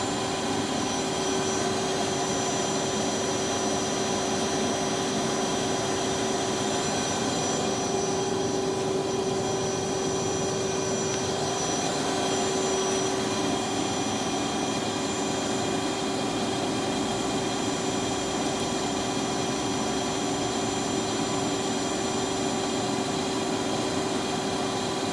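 A Lucas 542B-84 five-axis CNC table-type horizontal boring mill runs at 200 RPM in its medium gearbox range, giving a loud, constant mechanical whine and hum over broad noise that holds steady for the full stretch.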